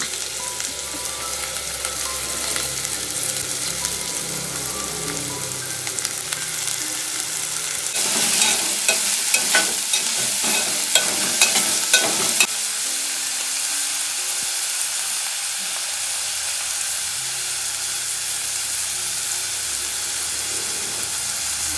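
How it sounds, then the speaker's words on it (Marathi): Onions fry in oil with a loud, continuous sizzle, the crackle swelling sharply for a few seconds midway before settling back to a steady hiss; close by, with no talking. "आता कांद्या तेलात फक्त आपण तेलात चांगला कांदा पोळून घेऊया"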